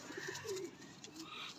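Rampuri pigeons coo in a few soft, low, rounded calls close by, with faint background noise and no talking.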